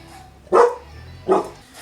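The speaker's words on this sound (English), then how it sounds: "Stop that barking, please." A dog barks twice, close and fairly loud, with about a second of quiet between the two sharp barks.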